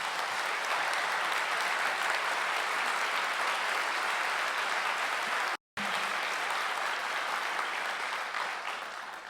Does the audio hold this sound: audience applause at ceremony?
yes